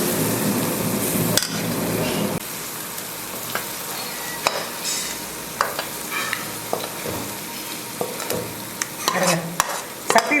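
A spoon scrapes and taps against a pan in scattered clinks while thick onion relish is scooped out, with a faint sizzle in the background.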